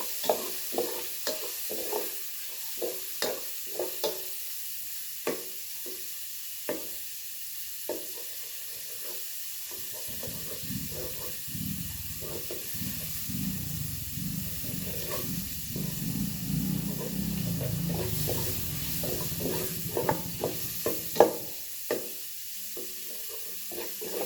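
Pork stir-fries in a pan with repeated scraping and stirring strokes over a steady sizzle, the frying hiss swelling louder midway, with no talking.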